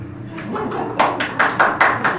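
A few slow, sparse hand claps in a church, soft at first and then louder and more distinct, about seven claps at an uneven pace.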